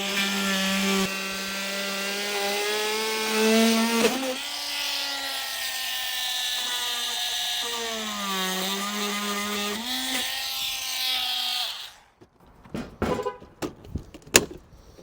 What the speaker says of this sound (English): I'm going to use a multi-tool to cut this out